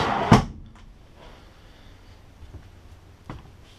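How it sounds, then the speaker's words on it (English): A wooden plywood-and-laminate box drawer in a 2015 Airstream International Signature 27FB travel trailer shuts with one sharp close thump, followed by a couple of faint softer knocks in a quiet interior. "Wooden box drawers."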